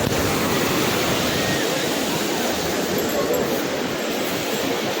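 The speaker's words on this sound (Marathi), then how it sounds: "पाणी लगेच आला. आता लाट खूप मोठे आहेत." Ocean waves surge at Jagannath Puri beach, a loud, continuous close roar of crashing surf and rushing water, with voices heard faintly under it.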